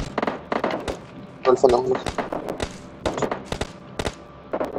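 Rapid gunfire bursts from the battle royale video game PUBG crack out in quick clusters of sharp shots, some spaced singly and some in fast volleys, with a player talking over them.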